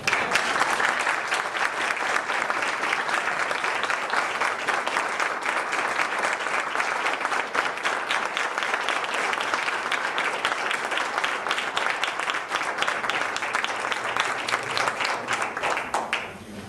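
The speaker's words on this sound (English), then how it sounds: "You will give him a round of applause." Sustained audience applause at a town board meeting in Aberdeen, North Carolina, greeting a returning staff member; dense steady clapping fills the room at an even level for the whole stretch, tapering slightly at the very end.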